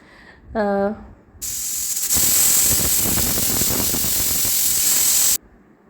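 A pressure cooker steaming rice lets out a brief whistle, then a long, loud, steady hiss of escaping steam that cuts off abruptly.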